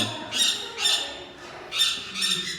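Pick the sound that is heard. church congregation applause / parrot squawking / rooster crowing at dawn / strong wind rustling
parrot squawking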